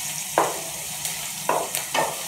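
Garlic frying in a pan with tomato sauce added makes a steady sizzle, interrupted by several short scraping stirs, close and with no talk.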